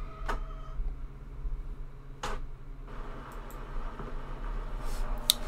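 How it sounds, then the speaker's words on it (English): An Epson ET-27xx inkjet printer runs its self-test after power-on, with a few sharp clicks, then a steady mechanical whirr and faint ticks as the print head moves. No voices are heard. "Okay, so the printer passed its self-test"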